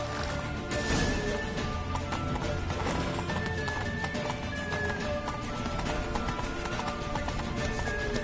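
Horse hooves clip-clop in a fast, steady gallop in The Witcher 3, with an occasional whinny, all heard close under game noise and without talk.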